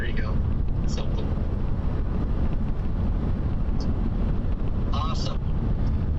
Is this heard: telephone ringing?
no